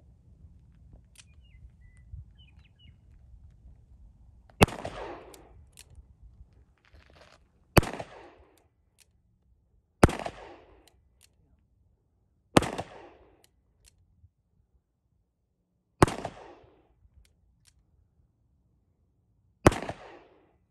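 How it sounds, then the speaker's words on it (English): Smith & Wesson 686 revolver fired single action at a shooting range: six loud, sharp gunshots spaced a few seconds apart, each with a short ringing decay, with faint background noise between them. "I'm gonna shoot single action again"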